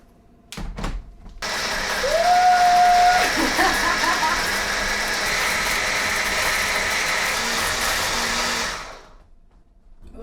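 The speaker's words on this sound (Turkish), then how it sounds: "Şimdi bunların hepsini blenderdan çekeceğim." Blender whirring through cocoa diet cake batter made without fat, flour or sugar, a steady loud motor hum running for several seconds after a few knocks, then cutting off.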